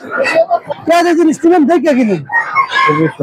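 Chickens and ducks at a busy poultry market in Fatullah, with clucking and fowl calls heard close up under loud, continuous talking nearby.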